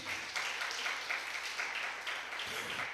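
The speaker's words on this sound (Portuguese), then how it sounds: "Você pode aplaudir o Senhor Jesus?" A congregation at a Brazilian family church service claps steadily for several seconds, a busy wash of hands at moderate loudness with faint voices mixed in.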